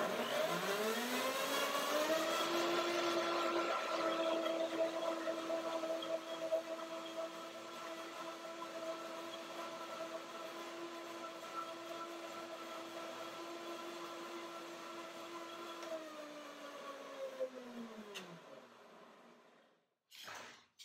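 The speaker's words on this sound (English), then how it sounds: "It's a power blender, high-speed blender with the name Revo Blend." A Revo Blend high-speed power blender runs steadily with a loud whirring motor hum, holding a constant pitch for most of the run before winding down and stopping near the end.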